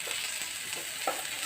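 Ginger paste sizzles in hot oil among fried onions in a pan, a steady close frying hiss with a few soft stirring scrapes, heard alone with no talk.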